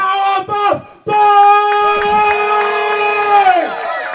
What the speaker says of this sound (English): Wow, the crowd loved that idea.